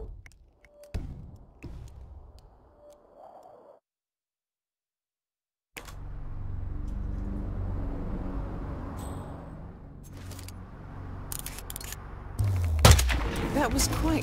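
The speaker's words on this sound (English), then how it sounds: "That was quite the explosion" An explosion in Hitman 2: after a moment of silence, a heavy boom hits and rolls into a long, loud, low rumble, followed by scattered bangs and debris sounds. Speech is heard early on.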